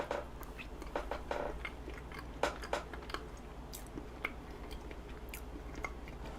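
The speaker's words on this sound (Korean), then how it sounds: "망고부터 먹자" Someone bites and chews mango cheesecake up close with soft, wet crunches and mouth sounds in an irregular rhythm. Faint background hum, no talking.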